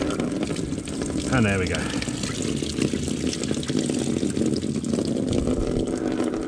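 Old coolant drains from a 1998 Suzuki GSXR750 SRAD motorcycle in a steady splashing trickle, close and continuous, with someone speaking briefly over it.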